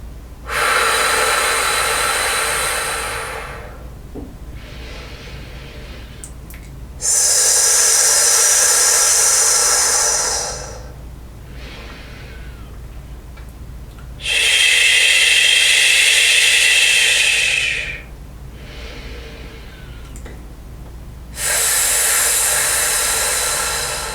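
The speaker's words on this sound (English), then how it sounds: "I'm driving the air up by squeezing my abdomen in and using the diaphragm to push that air out." Forceful, breathy voiced exhalations pushed out from the diaphragm in a voice exercise, four long loud bursts of air separated by quiet breaths in, close and alone.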